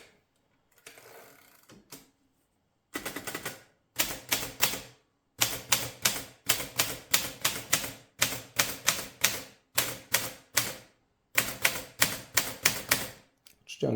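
A Rheinmetall KST manual typewriter being typed on, sharp clattering keystrikes in quick bursts separated by brief pauses, with the carriage ratcheting along, close and loud.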